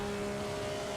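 Maserati 250F race car engine in Assetto Corsa at Monza, held near 8,000 RPM in fourth gear: a steady, loud, droning engine note with strong harmonic tones throughout, no talking.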